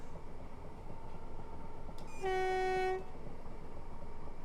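Passenger train sounding its horn on approach to Cardross station on a suburban Glasgow line, one sustained tonal blast of about a second over a steady cab and track rumble, fairly loud and close.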